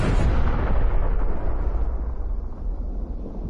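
Rocket-arm explosions from the boss Smasher in the video game Cyberpunk 2077, a loud, continuous booming roar with heavy low rumble that slowly fades over a few seconds, with no voices over it.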